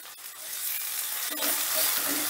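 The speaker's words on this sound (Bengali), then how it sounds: "শুকনো লঙ্কাটা ভেজে নিয়ে দিয়ে দিচ্ছি পেঁয়াজ" Chopped onion hits hot oil with fried dried chili in a pan, breaking into a loud, bright sizzle that holds steady, close up with faint stirring and no talk.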